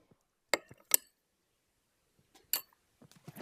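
A knife stabs at lumps of potassium and sodium metal under kerosene, giving a few sharp, isolated clinks and taps separated by silence, then a quick cluster of small knocks.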